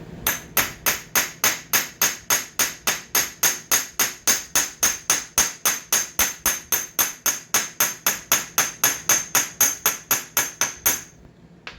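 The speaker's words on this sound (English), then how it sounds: "I'm just going to take the hammer." A hammer taps a nicked metal edge on a machine in a fast, steady rhythm, dozens of sharp ringing strikes evenly spaced and close up, stopping just before the end.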